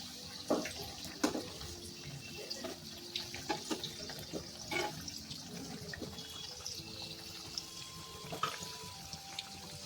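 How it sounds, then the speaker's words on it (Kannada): Masala vada made from chana dal and dill fry in hot oil with a faint, steady, bubbling crackle scattered with small pops, and no one talks. "ನೋಡಿ ನೋಡಿ ಎಷ್ಟು ಚೆನ್ನಾಗಿ ಫ್ರೈ ಆಗ್ತಾಯಿದೆ"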